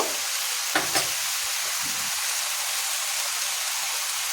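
Cumin powder being stirred into a cabbage curry in a pan, with a steady soft sizzle throughout and a couple of brief scraping strokes near the start, no talking.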